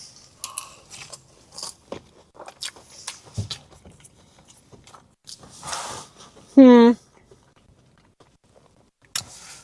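Someone bites into a Burger King Wagyu burger close to the microphone, giving a series of crunchy, wet chewing sounds with short pauses, some sniffing and a brief squeaky noise between bites.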